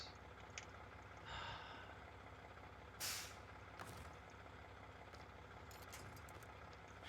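A train handbrake releases in a video game with a sharp, loud burst of air brake hiss partway through, followed by fainter short hisses over a low idling rumble.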